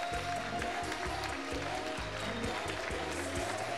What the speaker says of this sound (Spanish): Un forte aplauso para Cate Cris.